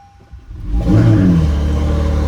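A 2019 Acura NSX fitted with downpipes and a Quicksilver exhaust revs hard from idle, rising to a loud, sustained engine roar that holds steady close by with no talking over it.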